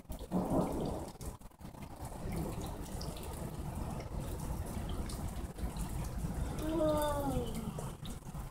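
Low rumbling thunder rolls steadily over the ocean in Florida beneath a constant hiss of rain, with a brief voice partway through.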